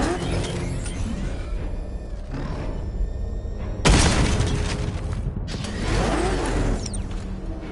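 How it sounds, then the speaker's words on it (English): A sudden loud blast erupts in Batman: Arkham Knight after a stretch of mechanical hum, followed by crackling, rumbling debris and lingering noise. "Warning. Explosion imminent."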